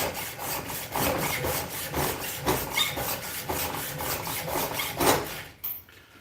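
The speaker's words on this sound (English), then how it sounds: "I'm going to have to grind these flat, but that won't take but a second." Handles being ground flat: a continuous abrasive rasping with rhythmic back-and-forth pulses, close and fairly loud, stopping abruptly at the end.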